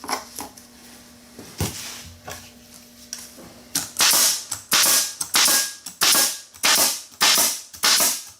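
A staple gun fastens outdoor carpet over a ridge with a run of loud, sharp snapping shots, a few spaced ones and then a quick regular series of about eight, close by and with no talk.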